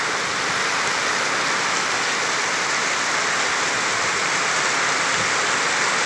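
Heavy rain pours onto a flooded street on Avenida Evencia Brito in Ribeira do Pombal, Bahia, a dense, constant hiss of downpour and running water filling the whole stretch without talk.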